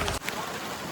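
Monsoon rain pouring steadily outdoors during a family trip, a constant close hiss of falling drops with a brief louder burst at the very start.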